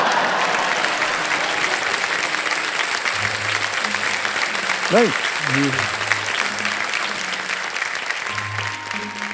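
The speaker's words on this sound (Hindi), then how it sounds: "हम देख रहे हैं बाकी सब लोग ताली बजा रहे हैं" A TV quiz-show studio audience applauds in a dense, continuous wash of clapping, with a voice briefly speaking over it.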